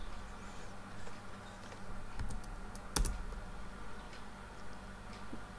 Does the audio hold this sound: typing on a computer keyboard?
yes